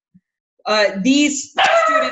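A dog barks a few times close by during a humanities meeting, and a person speaks over the barks.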